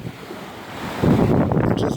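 Ocean water washes up a shoreline as the level rises, a steady broadband rush of surf that swells louder partway through, mixed with wind buffeting the microphone.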